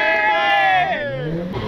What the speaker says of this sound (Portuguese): É porque eu acho que o carro tem um escape barulhento.